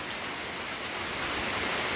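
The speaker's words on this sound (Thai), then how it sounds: "พอมาแต่ตลาดพี่น้องฝนตกนำลงมาอีกจ้าฝนตกกลางทางเนาะ" Rain falls steadily in a dense, even hiss that holds constant for the whole stretch, with no voices over it.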